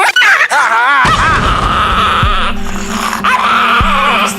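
A small dog growls and snarls loudly up close while lunging to bite a husband who nears his wife, with whining, yelping tones and a deep groaning rumble underneath.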